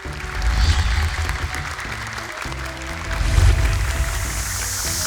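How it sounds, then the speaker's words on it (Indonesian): An audience applauds two young Quran memorisation contestants on a TV competition show, a sustained wash of clapping under music and background sound. "Boleh tepuk tangan untuk Kausar dan Sulaiman."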